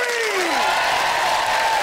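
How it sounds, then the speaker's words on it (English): Cued cheering from half of a comedy TV studio audience, a loud, brief roar of shouts and whoops with some clapping, sustained for a couple of seconds. "let's have this side of the room cheering on 3"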